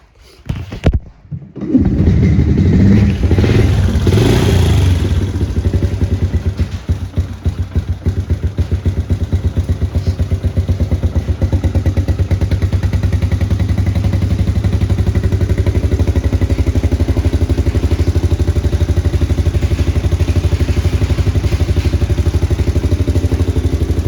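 Honda TRX 90 ATV engine starts after a brief crank and settles into a steady, loud, close idle with a rapid put-putting mechanical clatter that runs on alone without pause.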